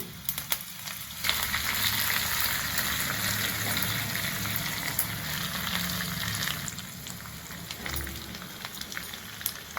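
Mustard seeds, cumin, urad dal, onions, asafoetida and curry leaves sizzle and crackle in hot oil as a tempering for Andhra-style bottle gourd dal. The frying is steady and close, with scattered sharp pops throughout.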